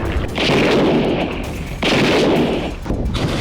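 Gunfire and rocket fire during a Hezbollah attack on Israeli border towers and a command center, two heavy booming blasts with rumbling tails and scattered shots between, loud and close.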